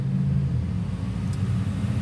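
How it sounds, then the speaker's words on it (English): Low, steady rumble of passing road traffic heard from inside a parked car at a busy roadside, continuous and fairly loud throughout with no talking. "The noises you hear, that's traffic."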